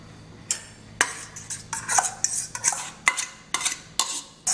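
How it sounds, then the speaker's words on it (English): Banana bread mixture is scraped and tipped from one bowl into a bigger one, with a series of sharp clinks and clatters of a utensil against the bowls, close and irregular, with no talking. "let me transfer this into a bigger bowl"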